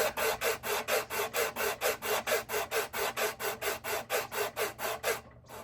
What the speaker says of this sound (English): it's pivoting here while I sand this spot right here